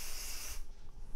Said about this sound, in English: Okay, you want to spray this